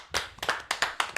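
A handful of sharp hand claps, about six in quick irregular succession, ring out close and clear with no talking, as a live online talk show welcomes a guest.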